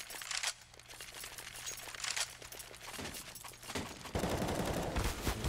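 Rapid gunfire bursts from Counter-Strike on the Mirage map during a professional NRG vs MIBR match, with several sharp shots cracking over a steady background hum and a louder, denser volley near the end.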